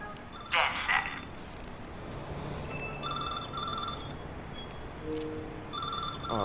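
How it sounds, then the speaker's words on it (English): A payphone with hardware attached rings in the video game Watch Dogs 2, short electronic ringing bursts amid mechanical creaks and ambient game noise. "I found a payphone with some hardware attached to it. It just started ringing"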